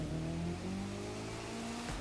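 A front-engine, front-wheel-drive Honda Civic in the racing game The Crew 2 revs with a droning engine tone whose pitch shifts up and down, steady and fairly quiet throughout.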